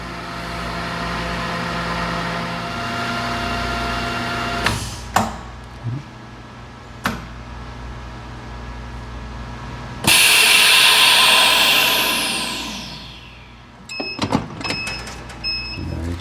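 A TC 420 table-top vacuum chamber machine vacuum packing a pizza: a steady motor drone runs, a few clicks and thumps follow, then a loud hissing rush of air as the chamber vents and fades, ending in sharp mechanical clicks.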